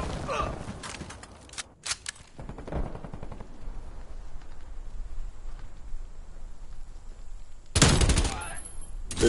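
Bursts of video game gunfire crackle in rapid fusillades, a few short volleys early on, then a quieter stretch, and a loud dense burst near the end, with some faint talk.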